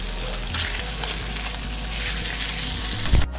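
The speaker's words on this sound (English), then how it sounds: "the potatoes is looking good and frying up good" Potatoes sizzle and crackle steadily in a hot pan with butter and fresh herbs, a loud continuous frying hiss close by, with a brief clatter near the end.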